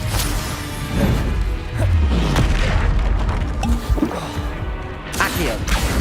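Incendio fire spell cast in Hogwarts Legacy on PC, a heavy booming burst with crashing impacts over a few seconds, with a voice shouting spell names over it.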